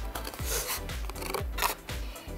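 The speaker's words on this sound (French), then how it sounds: "prenez une paire de ciseaux et puis découpez les contours" Scissors cutting through cardboard up close, a repeated rhythm of crisp snipping strokes with rough scraping in between, and no voice over it.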